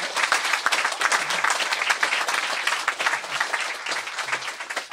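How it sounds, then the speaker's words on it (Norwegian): Audience clapping for a panel at the end of a Europe café debate on politics and migration, with bright, dense applause holding steady and fairly close for several seconds. "og da synes jeg dere skal klappe for panelet."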